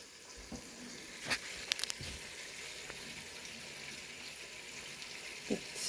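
Gluten-free mini bagels simmering in a pot of water, a soft steady bubbling hiss with scattered faint pops and clinks, quiet and without talk.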